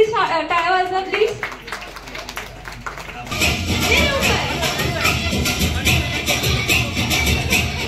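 Guests at a family birthday party in a banquet hall break into a burst of lively clapping and cheering after a stretch of chatter and voices, the applause continuing to the end.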